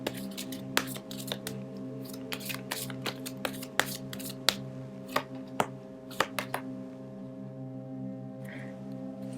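Tarot cards being shuffled and drawn, a series of sharp, crisp card snaps and flicks at irregular intervals, close and clear over a steady low hum.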